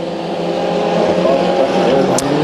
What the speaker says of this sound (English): We're watching the number 32 kicking up some dirt. in that high-power four-cylinder machine.